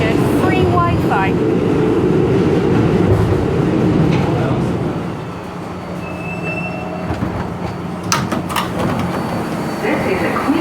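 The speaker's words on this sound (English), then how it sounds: "This is a Queens-bound 7 local train." A Queens-bound 7 local New York subway train rumbles along steadily, loud and close, with squealing wheels, a brief chime and clattering door sounds near the end; faint voices underneath.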